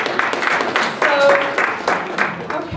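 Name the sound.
audience round of applause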